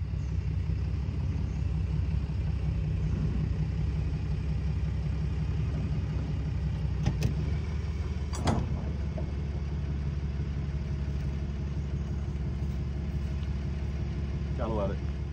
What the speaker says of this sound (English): All right, I'm gonna back up the truck.